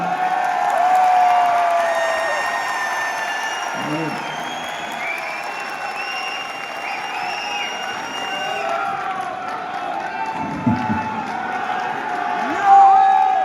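An audience at a live RCM business event applauds and cheers in a sustained, fairly loud wash of clapping, with tonal voices or music running over the crowd noise throughout.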